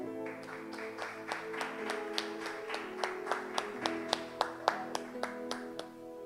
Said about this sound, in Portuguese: aleluia, e um aplauso ao Senhor.